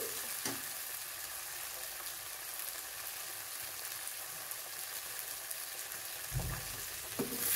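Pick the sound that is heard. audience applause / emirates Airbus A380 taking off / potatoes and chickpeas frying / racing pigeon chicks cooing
potatoes and chickpeas frying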